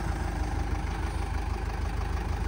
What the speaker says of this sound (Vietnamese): Máy nổ này cực kỳ luôn ha